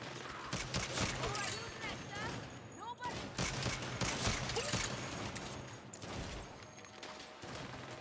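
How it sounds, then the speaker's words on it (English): Gunfire crackles through a three-way firefight in Saints Row, with dense, overlapping bursts of shots and impacts piling up for several seconds, mixed with shouting voices. "It's a three-way goddamn firefight!"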